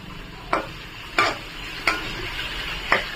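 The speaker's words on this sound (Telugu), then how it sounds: "ఈలోపు అవి ఫ్రై అవుతూ ఉంటాయి." Ingredients for egg fried rice fry in a pan, with a steady soft sizzle broken by four sharp spatula scrapes spaced roughly evenly, each one brief and close.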